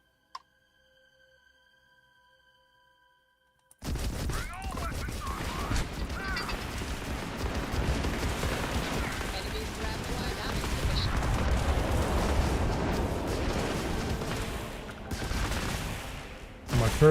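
Turret gunfire in the space RPG Starfield, a dense sustained burst of rapid mechanical shots that starts abruptly after a quiet lead-in and runs on steadily, loud and close, with electronic game tones over it.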